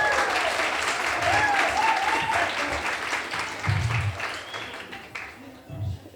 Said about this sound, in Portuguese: Vamos receber ele com palmas, com aplausos,